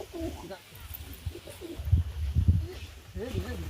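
Pigeons kept in a rooftop loft coo in several soft, throaty bursts close by. The cooing is mixed in with a person talking.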